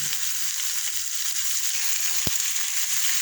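Chicken sizzling loudly in a hot pan for adobo, with ginger and onion already in it; a steady, close hiss fills the whole stretch, broken once by a sharp clack, with no talk.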